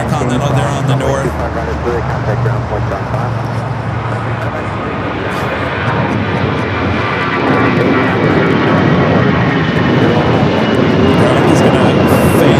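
A Boeing 747-8 jet airliner lined up for takeoff at LAX rumbles loudly and continuously, its engine roar building slightly over time, with talk over the top.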